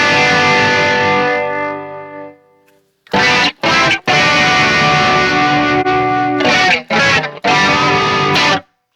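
An electric guitar rings through a shimmering chorus effect on a Mesa Boogie Mark IIC+ amp model: a sustained chord fades out, then choppy strummed chords play loudly with brief gaps.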